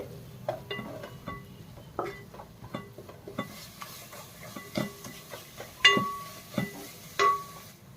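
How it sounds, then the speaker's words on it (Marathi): Homemade masala, coriander-cumin powder and turmeric being stirred and fried in a pan, with irregular scrapes and clinks of a spoon against metal over a faint sizzle, close and fairly quiet. "आता मसाले पण ह्याच्यामध्ये ना चांगले 1 मिनिट फ्राय करून घ्यायचे आहेत"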